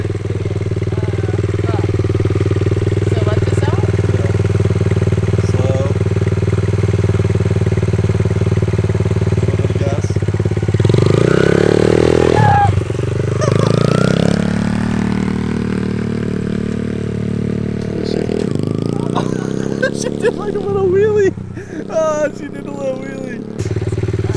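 A dirt bike engine runs steadily at idle and low revs as a new rider learns to shift gears, with louder revving surges partway through, and people talk over the motor throughout.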